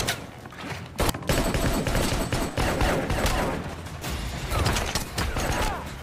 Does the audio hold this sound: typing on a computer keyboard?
no